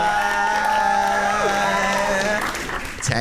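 A live dating-show audience cheers and applauds for contestant Taya, a dense, loud wall of clapping and whoops that holds steady before easing slightly near the end.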